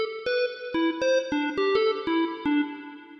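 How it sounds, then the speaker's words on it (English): A free Valhalla reverb plugin with its density raised, washing a melodic synth or keyboard line of short plucked notes into sustained tails that ring and smear together, then fade out at the end. "If I increase this knob and increase the density, so it starts to act as a reverb."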